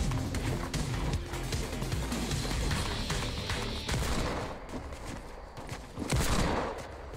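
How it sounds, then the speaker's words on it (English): Fortnite gunfire during a match: a dense, continuous barrage of shots and impacts, loud and close, keeps up for several seconds with a few bursts standing out, and no talk over it. "Who's shooting?"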